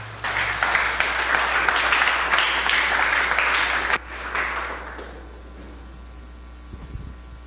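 Church congregation applauds during a sermon, a sustained, dense round of clapping that fades out after about five seconds, leaving quiet room tone and a few faint taps.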